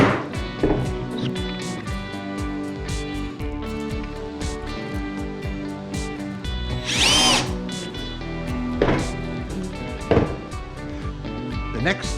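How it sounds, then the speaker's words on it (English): A power drill driving short drywall screws through a pine straight edge into a plywood base, with loud, close whirring bursts that rise and stop repeatedly, plus knocks and handling sounds in between. "We'll then screw this pine straight edge in place with a couple of short drywall screws."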